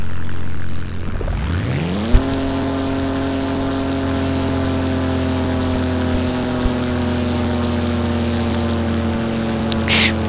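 A game airliner in Roblox Ro-Planes 3 spools up for takeoff, its engine tone rising after a second then settling into a steady loud drone with layered harmonics, a small click or two over it and no talk.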